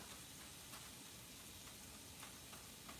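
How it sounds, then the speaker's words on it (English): Bacon sizzles in a pan for camp provisions, a faint, steady broadband hiss with small occasional crackles and no voices. "Hear that sizzle going? Y'all hear that sizzle?"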